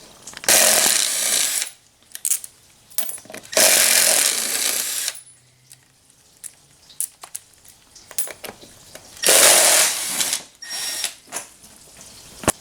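Front wheel coming off a race mower front end fitted with MCP disc brakes, rotors and calipers: three loud bursts of a power tool spinning off the wheel fastener, separated by quieter clicks and handling noise, no talking.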